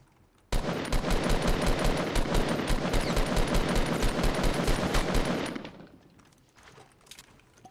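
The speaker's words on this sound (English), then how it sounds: "I love it when my bullets hit things." Rapid automatic gunfire from the video game Fortnite, a dense unbroken burst of shots and bullet impacts lasting about five seconds, loud and close, then fading to quiet game ambience.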